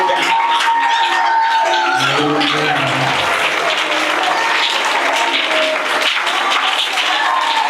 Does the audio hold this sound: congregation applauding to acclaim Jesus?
yes